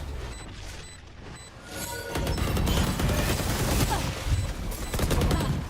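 Rapid bursts of gunfire in a Valorant grand final match, loud and dense, starting after a quieter stretch of clicks and mechanism sounds and carrying on to the end with no talking.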